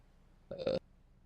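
A single short, loud burp from a person stands alone against a quiet background, lasting about a third of a second.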